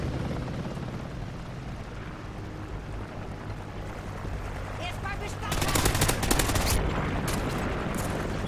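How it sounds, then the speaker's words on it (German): An allied helicopter arrives in Call of Duty Ghosts multiplayer with a low, steady rotor drone, joined partway through by loud, rapid bursts of machine-gun fire. "Verbündeter Heli kommt."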